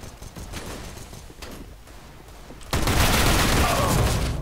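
Mag 7 shotgun gunfire in CS:GO on the Mirage map, a sudden, loud, dense barrage of shots bursting in after a stretch of quieter game noise, with a voice faintly underneath.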